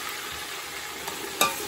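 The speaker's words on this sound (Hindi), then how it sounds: "ये मैं इसमें अब ये हरी मिर्ची और प्याज का पेस्ट डाल रही हूँ, और इसमें मैंने एक चम्मच मैंने अदरक लहसुन का पेस्ट डाला।" Green chili and onion paste frying with ginger garlic paste in a pan for mutton pulao, a close continuous sizzle with light stirring and one sharp utensil knock near the end.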